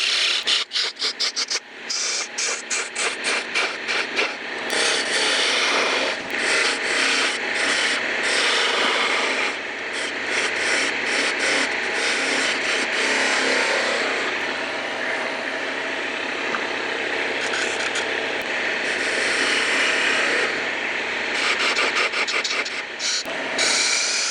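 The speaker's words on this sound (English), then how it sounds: "Now I've got a 3/8 inch spindle gouge here. And I'm going to get some of this waste out of the way." A 3/8 inch spindle gouge cutting waste from a wooden twig vase on a lathe: loud, harsh continuous scraping and rasping, with rapid chattering pulses at the start and near the end, alone and close.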